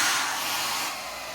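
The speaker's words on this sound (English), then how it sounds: "So you got a blow dryer. I like that." A hotel room's wall-mounted blow dryer runs close by, a loud steady whooshing rush of air that dips slightly in level partway through, with no talking.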